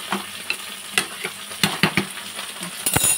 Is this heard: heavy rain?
no